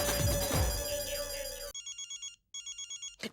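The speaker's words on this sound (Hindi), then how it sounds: "पोपटलाल का फोन।" A mobile phone's electronic ringtone sounds for an incoming call in a sitcom scene, a repeating pulsed melody that plays in short bursts with a brief gap, after a few seconds of louder music.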